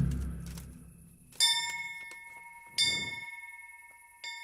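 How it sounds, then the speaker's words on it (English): Bell tolling in the medieval video game Kingdom Come: Deliverance, three clear ringing strikes about a second and a half apart, each with a long shimmering decay, fairly quiet over a low murmur at the start. "There's the bell."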